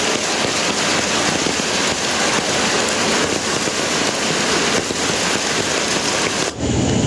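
Heavy night rain in Idukki with floodwater pouring over a bridge makes a dense, loud, unbroken roar that cuts off abruptly near the end.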